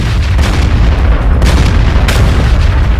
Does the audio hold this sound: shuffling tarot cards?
no